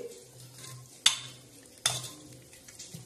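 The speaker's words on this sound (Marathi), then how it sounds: "आता पुन्हा एकदा आपण याचं छान असं हलवूया" A spoon stirs chicken in black masala curry in a pot, giving two distinct scraping clanks against the metal over a soft background sizzle, close and fairly quiet.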